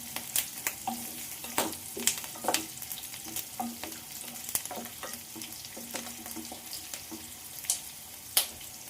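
Vegetables, soon joined by chopped tomatoes, fry in a pan for a homemade paneer curry, with a steady sizzle and scattered clinks and scrapes of stirring, moderately loud and close, with no talking.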